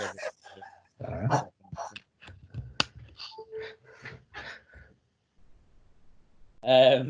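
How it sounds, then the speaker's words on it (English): A dog barks and yips in short bursts close to the microphone, mixed in with a person talking and ending with a loud final bark. "sorry, that's my dog"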